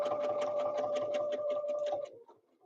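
Sewing machine quilting along a line of stitching, a steady close rapid whir of needle strokes lasting about two seconds before it winds down and stops.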